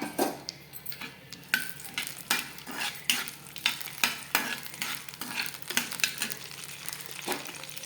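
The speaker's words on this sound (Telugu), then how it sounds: "ఇప్పుడు కడాయిలో కొద్దిగా ఆయిల్ వేసుకొని అది కొంచెం వేడెక్కిన తర్వాత పచ్చిమిర్చి," Green chillies fry in hot oil in a kadai, with a steady sizzle broken by repeated scraping stirs and metallic clinks of a spoon against the pan, and no voices.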